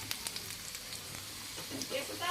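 Food fries on a gas stove turned to high flame, giving a steady, fairly quiet sizzle and crackle with occasional stirring clicks.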